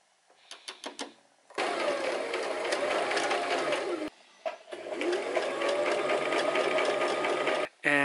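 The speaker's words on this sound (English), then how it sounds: "but first we gotta stitch." A sewing machine runs in long steady bursts while stitching a kimono seam, with a short stop-start at the beginning and a brief pause midway. It is close and loud, and no one talks.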